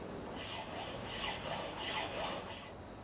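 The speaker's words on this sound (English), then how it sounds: "This is a flat file, but its shorter teeth remove much less material on each stroke." Flat smooth-cut file worked by hand in an automotive workshop, scraping in repeated soft, even rasping strokes, faint and close, with no voices.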